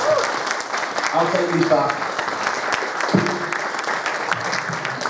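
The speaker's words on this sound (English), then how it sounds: "Round of applause for that." An audience at a retro gaming expo in Blackpool claps steadily throughout while a person speaks briefly over the applause.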